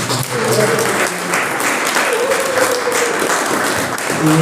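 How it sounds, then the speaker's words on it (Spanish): Congress audience applauding a professor after his talk, a full hall clapping in a steady, dense wash that holds at an even level throughout, with faint voices mixed underneath. "Le regalamos, por favor, un fuerte aplauso."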